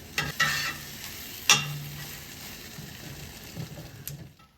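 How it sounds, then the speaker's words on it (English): Scrambled eggs being pushed around a cast iron skillet with a spatula: a soft steady sizzle with a few sharp scrapes and taps of the spatula on the pan, close by and with no talking. "A lot of times I just move them around the pan like I am with my spatula"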